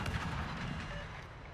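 Guns on the Swedish warship Öland, a tier 8 vessel in a naval battle game, fire in rapid succession, a loud opening blast trailing into rolling rumble and overlapping booms.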